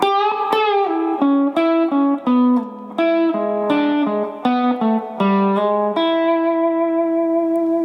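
An electric guitar plays a slow funk lick in E, a run of distinct plucked notes with effects, ending on a held ringing note; loud and close, no talking.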